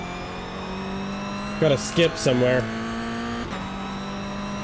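A Mazda MX-5 race car engine in a racing video game drones steadily during a practice session at Oulton Park, with a few quick shifts and revs midway. Someone speaks briefly over it.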